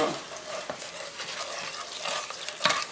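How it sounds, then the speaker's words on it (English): Pineapple juice and brown sugar glaze simmering and reducing in a pan for a baked ham, a soft bubbling sizzle with occasional stirring clinks and scrapes, fairly close and no talk. "basically I'm going to just cook this until it reduces down"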